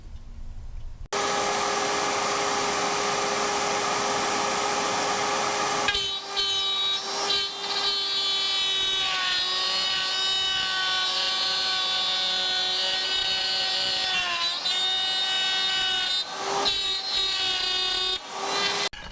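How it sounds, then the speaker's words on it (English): A router mounted in a router table cuts wood for a large picture frame, giving a loud, steady high-pitched whine that runs almost continuously after a sudden start, with a brief dip in tone partway through. "So, router table with the router. This is the exact bit that I'm using"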